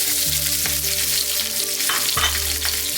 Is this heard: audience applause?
no